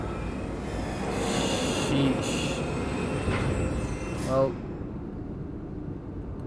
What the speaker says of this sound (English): They got rocket trains now?